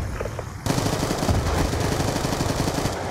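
Automatic gunfire in Black Ops 2: a short pause, then a sustained burst of rapid, loud shots running to the end.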